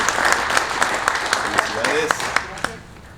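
An audience at a homeownership summit claps for prize winner Maria: dense, crackling applause with distinct individual claps, fairly close, fading toward the end, with some voices talking over it.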